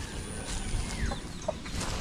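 Backyard chickens cluck faintly in brief, scattered calls against a steady background hum, with no one talking.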